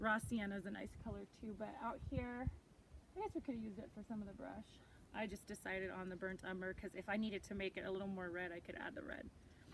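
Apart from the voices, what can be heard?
No distinct noise like a dog, phone or traffic.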